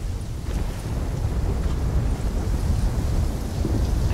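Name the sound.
thunder during a storm in the video game Call of Duty Black Ops 3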